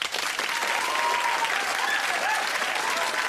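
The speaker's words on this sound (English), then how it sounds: "So another big round of applause," Studio audience on a 1992 television quiz show applauding a new contestant, steady dense clapping that holds at full level for the whole stretch with a faint hum of crowd underneath.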